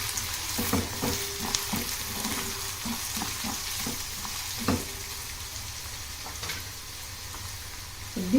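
Finely chopped cabbage, carrot and chilli are stir-fried for veg Manchurian, with a continuous crackling sizzle and repeated soft scrapes and taps of a spatula, close and fairly loud with no voices.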